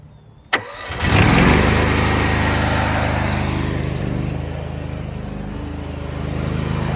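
Engine on an 8 gpm pressure washer cranks and fires up after a sharp start, then settles into a loud, steady running drone close by, with a slight swell near the end.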